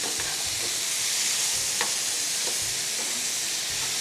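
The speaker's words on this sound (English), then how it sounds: "I'm gonna flip them now. I'm gonna take my spatula and turn it over." Food sizzles loudly and steadily in a frying pan while a spatula and tongs flip it, the hiss constant close up and broken by soft scraping and a few light knocks.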